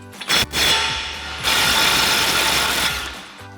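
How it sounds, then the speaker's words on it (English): An impact wrench with a 36mm axle socket hammers off the axle nut on a RAM 1500 TTX front knuckle, giving two loud, rattling bursts separated by a short pause. "we're gonna get this out with our 36mm axle socket on our impact"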